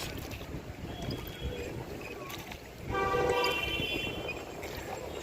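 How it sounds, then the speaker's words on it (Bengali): A boat moves across Nainital lake under a steady rumble of engine and water, with a brief tonal horn-like sound partway through and faint voices in the background. "বোটিং করছি।"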